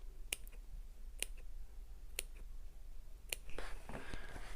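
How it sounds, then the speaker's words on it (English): Sewing scissors snipping small cuts into the seam allowance of a fabric bag gusset: four crisp, evenly spaced snips close by, followed by softer fabric rustling. "I'm just going to snip a few little snips into the seam allowance of the gusset"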